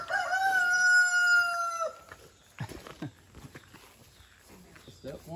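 A rooster crows loudly for nearly two seconds on a small farm where meat chickens are being processed, followed by shuffling, footsteps and scattered clucks and bird calls.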